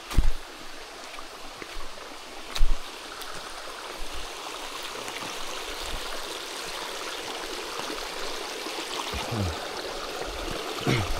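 Water flows steadily in a mountain stream, a continuous close rushing and gurgling with a few louder splashes near the start.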